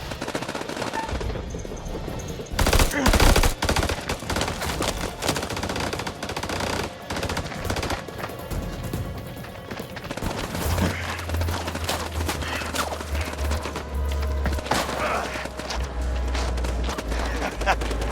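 A firefight in House of Ashes with sustained machine-gun fire rattling almost nonstop, loud and dense, while voices shout over the shooting.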